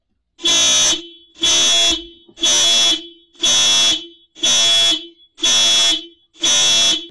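Car alarm blaring in seven loud, evenly spaced blasts, each about half a second apart, set off during a break-in at the right door of a parked vehicle before dawn in Barrancabermeja, Colombia.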